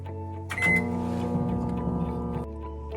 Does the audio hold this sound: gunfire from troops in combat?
no